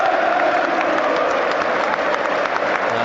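Football stadium crowd at a Premier League match, Newcastle United against Sunderland, applauding as an injured player leaves the pitch: a steady, dense roar of clapping mixed with crowd noise, loud and continuous throughout.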